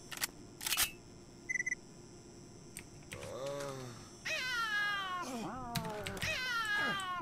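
A cat meows in the S.T.A.L.K.E.R. Shadow of Chernobyl video game, several drawn-out meows rising and falling over a quiet background with some clicks, a voice imitating meows nearby.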